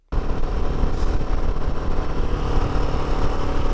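Royal Enfield Himalayan 450 motorcycle on a test ride with a GPS mount fitted, its engine running steadily and fairly loud close by, with a continuous rumble and no talking.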